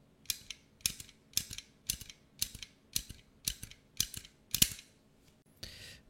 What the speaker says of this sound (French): Alors j'ai une agrafeuse dans la main, on va tenter ça.